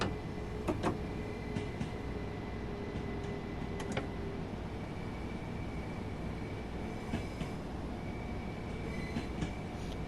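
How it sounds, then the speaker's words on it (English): A Class 377/4 electric multiple unit runs toward Brighton in the Train Sim World 2 game: a steady, loud rolling rumble with faint tonal motor whine and a few brief sharp clicks from the wheels and track. "We took the train all the way from the yard into Brighton."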